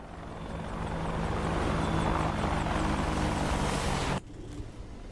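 An Apache attack helicopter in a flight simulator gives off a loud, dense, continuous rotor and engine roar that cuts off abruptly near the end, leaving quieter background hum.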